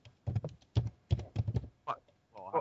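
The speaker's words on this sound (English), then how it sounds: "typing" Typing on a computer keyboard in bursts of close, fairly loud clicks and taps, with a voice faintly mixed in near the end.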